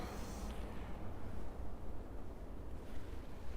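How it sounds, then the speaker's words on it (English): Steady outdoor wind rushes and buffets against the microphone on a chilly April afternoon walk near a community garden in Regina, a continuous broadband roar with gusty swells and no talking. "looks nice, but it's quite windy"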